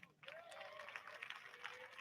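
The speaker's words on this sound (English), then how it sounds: "Clap it up." Graduating students at a high school graduation practice clap together, a quiet, distant wash of steady crowd applause with a few shouts and a voice rising above it.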